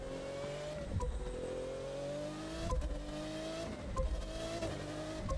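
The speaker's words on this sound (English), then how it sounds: "F1 car. Perfect." An F1 car engine in The Crew 2 racing game screams at high revs, its pitch climbing through gears with short dips at shifts, loud and continuous throughout.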